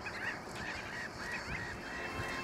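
Terns and other birds nesting at the back-beach lagoon at Vendres give harsh, honking calls in a loose repeating rhythm, moderately near, over a soft wind-and-water bed with no voices.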